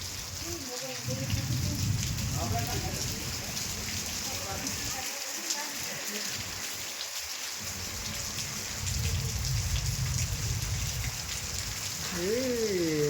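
Steady rain pours down in a constant hiss, with voices speaking intermittently over it.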